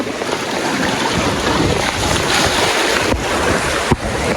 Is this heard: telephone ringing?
no